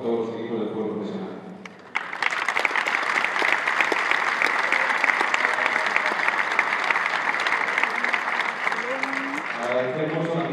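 A crowd at a Spanish football club presentation applauds after a speech, bursting into loud, dense, steady clapping that fills the room for about eight seconds, with someone speaking briefly before and as it fades.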